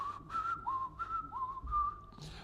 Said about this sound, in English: I will also whistle some tunes like quiz tunes